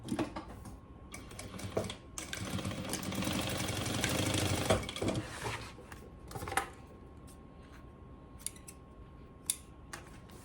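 Sewing machine stitching a fabric strip onto a zippered multipurpose wallet, with a loud, steady whirring run of a few seconds between softer clicks and handling taps.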